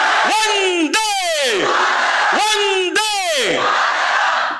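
A lecture audience chants a patriotic victory slogan in unison with arms raised, loud massed voices rising and falling in two repeated call pairs.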